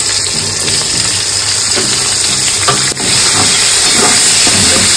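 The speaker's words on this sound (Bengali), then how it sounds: "একটু গরম হয়ে গেলে তারপরে কাটা পেঁয়াজ তেলের মধ্যে দিয়ে দেব।" Chopped onion sizzling in hot oil with torn bay leaves, a loud, continuous frying hiss heard up close with faint crackles and no speech.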